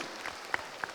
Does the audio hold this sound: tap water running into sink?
no